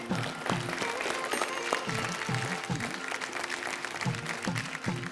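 Audience applause at a folk singing reality show, a steady patter of clapping under a faint bed of crowd noise and some rhythmic thumps.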